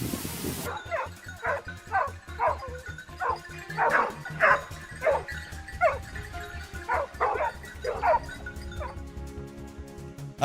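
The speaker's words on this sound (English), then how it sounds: "From a distance, they can hear the hounds barking, a sound that echoes through the air." Hunting hounds bark repeatedly on a wild boar hunt, a steady sequence of sharp yips and bow-wows at regular intervals, moderately loud with some echo and a faint hum behind.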